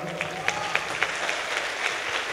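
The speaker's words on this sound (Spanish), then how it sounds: "Fuerte aplauso a Paola." A theatre audience at a concert in Matamoros claps for Paola in a close, dense burst of applause with a few sharper individual claps standing out, and a voice sounds partly over it.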